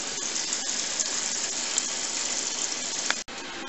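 Hot sparge water pours steadily into a brewing vessel on an all-grain home brew day, a constant rushing gush that breaks off sharply near the end.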